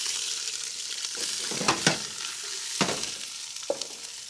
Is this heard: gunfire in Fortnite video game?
no